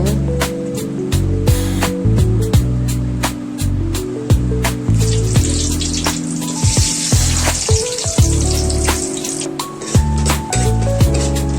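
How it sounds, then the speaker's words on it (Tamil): Ground cumin paste with small onions frying in a pan, a loud, continuous crackling sizzle with bursts of spattering, heard over steady tonal background music. "நல்லா வதக்கட்டும்."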